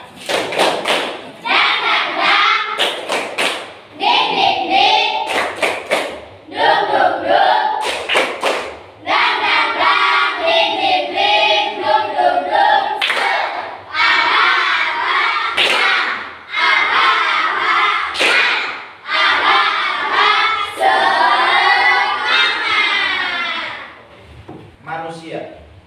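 A classroom of students performs a rhythmic clapping ice-breaker: bursts of group claps and thumps in a repeating pattern, mixed with loud group chanting and voices throughout.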